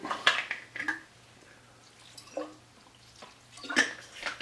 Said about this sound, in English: I'm gonna add a little bit of water into it